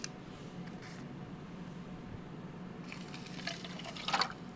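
Water is poured into a lab beaker for a lithium chloride hand warmer experiment, a quiet steady liquid trickle and splash that builds briefly toward the end, close and alone without talk.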